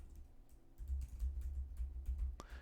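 Typing on a computer keyboard, a steady run of soft close-up key clicks over a low hum, ending with a brief higher-pitched click.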